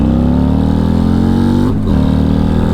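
A 2023 Harley-Davidson Street Glide ST Fast Johnnie with a 135ci V-twin accelerates in second gear, its loud, close engine roar climbing steadily in pitch, briefly dipping at a gear change before pulling hard again.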